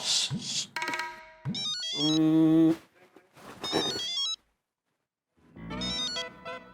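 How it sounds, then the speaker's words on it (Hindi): A melodic phone ringtone plays in repeated bursts separated by short pauses, clear and close, with no talking. "अब्दुल को फोन करो।"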